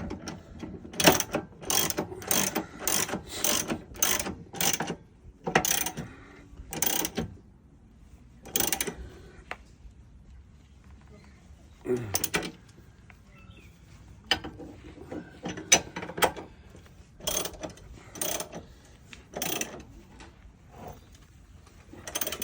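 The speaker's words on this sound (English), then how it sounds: "there are 3 bolts either side, and we're going to do them up" Ratcheting clicks from tightening M10 bolts on an RV step mount, heard in quick rhythmic bursts separated by pauses, close by with faint background noise.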